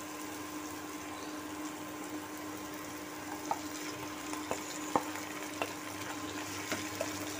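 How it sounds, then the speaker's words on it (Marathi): Mashed chickpeas go into a pan of hot oil for samosa ragda and are stirred, giving a steady close sizzle with a few sharp spoon scrapes and taps against the pan, no voices. "आता यामध्ये आपण हे जे मॅश केलेले छोले आहेत ते टाकणार आहोत"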